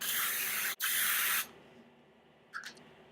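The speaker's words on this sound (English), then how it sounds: "You basically just shake it and then it has the most beautiful soft spray." Makeup setting spray misted from a bottle in two loud, steady bursts of soft hiss separated by a brief gap, then a faint, short trailing puff.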